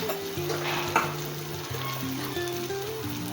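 Turmeric, red chili powder and coriander-cumin powder sizzle in hot oil with cooked tomato for dal, a steady close crackling fry with light stirring over faint background music.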